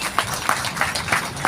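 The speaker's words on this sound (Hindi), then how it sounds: "इनके लिए एक बार तालियां हो जाए।" An audience at a Hindi-language public gathering claps together in a steady rhythmic beat, about three claps per second, close and fairly loud.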